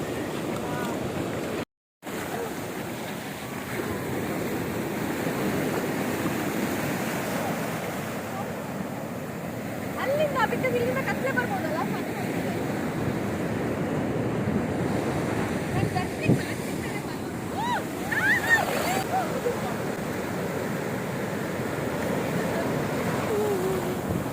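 Ocean waves break continuously on a beach, a steady loud roar of surf with wind buffeting the microphone and brief voices mixed in.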